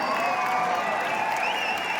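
Steady applause from a large audience at an anniversary event in New Delhi's Indira Gandhi Stadium, a dense continuous wash of clapping filling the space with no break.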